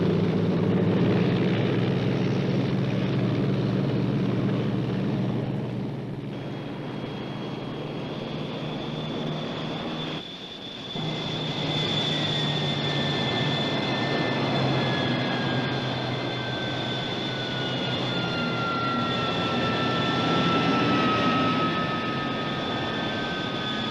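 Military aircraft engines powering up for taxi on a runway, a steady loud roar with a rising whine, a brief dip midway, then continuing strong.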